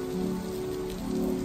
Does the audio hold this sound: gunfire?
no